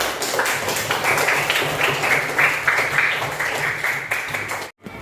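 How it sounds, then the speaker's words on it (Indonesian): A classroom audience claps for students receiving a reward, a dense patter of hand claps lasting several seconds before cutting off abruptly. "Tepuk tangan."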